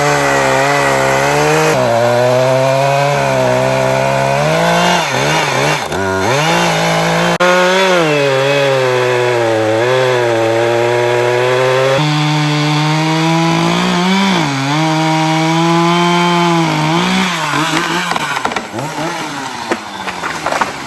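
A chainsaw cuts into a tree, loud and close, for about twenty seconds. Its engine pitch rises and falls repeatedly as the cut bogs down and revs back up.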